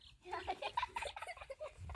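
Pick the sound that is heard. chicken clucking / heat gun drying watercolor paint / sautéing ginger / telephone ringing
chicken clucking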